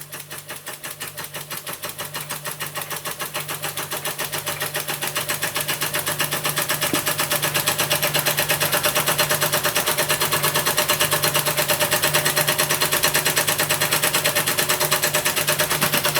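Czechoslovakian Ites model steam engine running steadily, a rapid, even mechanical chuffing and ticking that builds slightly in loudness and then holds constant, close up with no voices.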